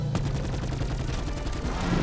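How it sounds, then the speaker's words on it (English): Rapid enemy gunfire bursts in Call of Duty: Black Ops 4 during the IX boss fight, a dense crackling volley of shots that continues steadily for two seconds under game music and effects. "Every time you hear the ksing ksing, that means they're shooting."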